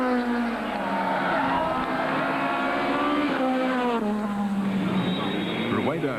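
Rally car engine roaring through a stage at Cape Rally 2002, rising and falling in pitch as it accelerates and shifts, loud and close with a commentator talking over it.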